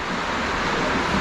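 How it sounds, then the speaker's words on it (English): Water is poured into the radiator of an overheating VW Polo Classic as a steady, loud, close rushing splash with no breaks. "So now I can throw water in"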